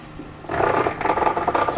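A force-feedback steering wheel motor whirs and rattles while sim racing GT Sport at the Nürburgring GP, starting quietly, then swelling into a close, pulsing mechanical buzz with no voices.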